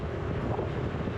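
Wind buffeting the microphone during a rainy motorbike ride along a quiet Konkan road, a loud continuous low roar with no talk.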